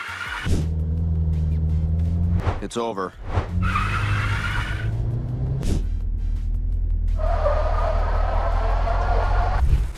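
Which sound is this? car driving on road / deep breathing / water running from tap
car driving on road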